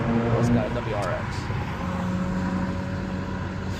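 A manual Subaru WRX drives through Manhattan streets, its engine a steady close hum blended with city traffic noise, with a rising rev early on and faint voices underneath.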